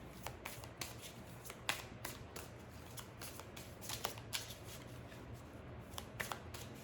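Tarot and oracle cards being shuffled and pulled from the deck, a steady run of soft papery riffles and flicks, close and quiet with no talking.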